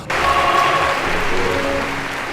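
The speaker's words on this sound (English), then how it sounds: "they heard applause from every paw, claw, and hand" A burst of applause from many hands starts abruptly and holds as a dense, fairly loud clapping wash, easing slightly toward the end.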